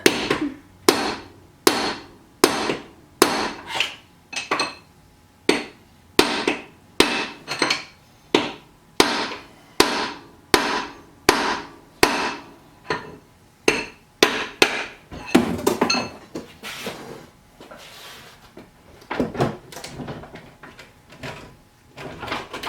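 A blunted punch is struck with a hammer to drive a part out of a Ford C6 automatic transmission during teardown. Sharp metallic blows land in a steady, evenly spaced rhythm, close and loud, and grow quicker and denser toward the end.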